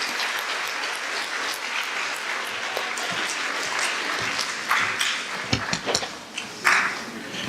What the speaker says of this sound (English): Let's give a warm, heartfelt round of applause for Mr. Geoff Morgan, the founder of Building Walls of Wisdom.